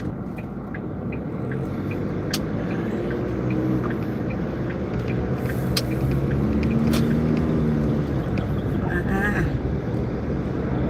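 A car being driven on a road, a steady loud engine and road rumble running throughout the interior, with a person talking over it.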